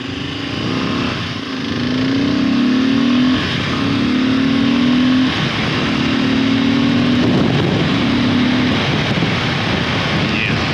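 A Kawasaki KLR motorcycle engine with a modified air box idles with a rough, low rumble, then revs up and down in a few repeated surges, steady and fairly close, with wind noise.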